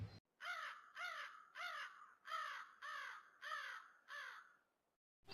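A cartoon crow gives seven evenly spaced, harsh caws, clear and alone, with short pauses between each call.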